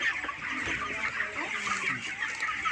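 A big rooster clucks steadily among other fowl on a farm, a continuous busy chorus of clucking at moderate loudness with no speech over it.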